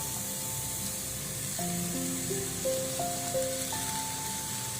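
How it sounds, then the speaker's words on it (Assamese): Chopped banana flower frying and being stirred in a pan, with a continuous even hiss under a soft melodic tune playing in the background. "কলডিলখিনি দি ভালদৰে লৰাই দিব।"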